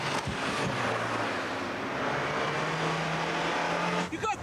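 A car speeds away during a police chase, its engine roaring steadily and loudly throughout with a rising whine, ending in a brief burst of noise.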